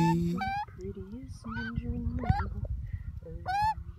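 A bird, likely a goose, gives a run of loud, close, nasal honks and squawks in irregular bursts, with rising and falling calls.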